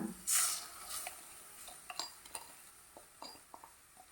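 Wheat rava being stirred and roasted in a pan for upma, with scattered light scraping and clinking of a spoon against the pan and a brief louder scrape near the start, fairly quiet overall.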